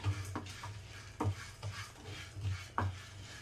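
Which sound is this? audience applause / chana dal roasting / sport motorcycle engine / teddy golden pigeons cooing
chana dal roasting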